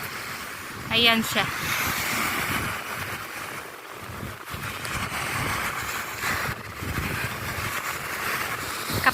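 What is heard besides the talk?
sea waves at the beach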